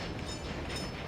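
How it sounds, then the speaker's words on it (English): A garbage train in the video game Workers and Resources rolls past with a steady mechanical rumble and faint clatter, continuous and moderately close. "I need a second garbage train"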